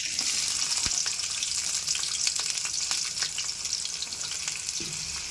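Onions sizzling in hot oil in a pan, a steady loud crackling fry with occasional stirring clatters, close and uninterrupted.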